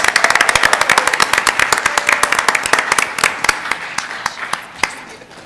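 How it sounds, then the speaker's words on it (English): An audience at a school board meeting gives a brisk round of applause for a team, dense sharp handclaps up close that thin out and trail off near the end. "So let's give them all a round of applause."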